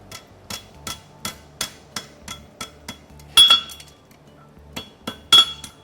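A hammer strikes a Mustad LiBero horseshoe clip on an anvil in steady, ringing blows, about two per second, with a couple of louder metallic clangs mixed in, close and without talk.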